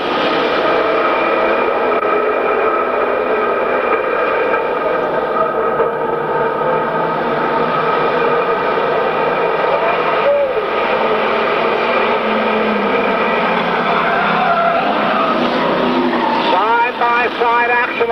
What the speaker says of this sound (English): Green flag should be up this time line of turn 4, and we are going to go